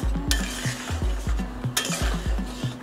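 Curry with cumin paste and coriander powder stirred in a pot, heard as quick regular scraping strokes about three per second, close and steady, over a soft bubbling sizzle with an occasional sharp clink.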